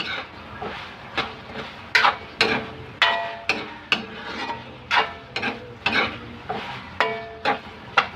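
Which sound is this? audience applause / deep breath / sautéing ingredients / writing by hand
sautéing ingredients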